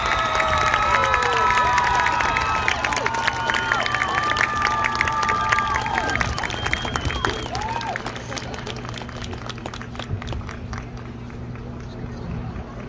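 A crowd at a high school marching band championship awards ceremony applauds and cheers, the clapping and shouts dense at first and slowly thinning over about thirteen seconds.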